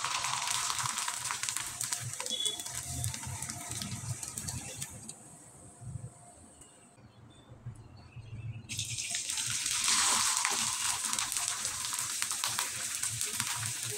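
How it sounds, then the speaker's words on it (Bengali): Rice flour chips frying in hot oil, a steady broadband sizzle that drops briefly quieter midway before swelling back to full strength, with no voices. "এভাবে আমি কয়েকটা চিপস ভেজে আপনাদের দেখিয়ে দিচ্ছি।"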